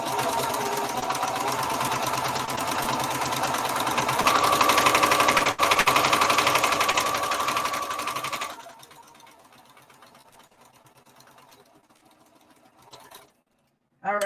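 Sewing machine running a long steady stitch along the side seam of a scuba-knit skater skirt, loud and continuous for several seconds, then stopping, leaving quieter handling noises.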